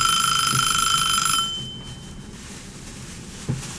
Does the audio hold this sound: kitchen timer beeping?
yes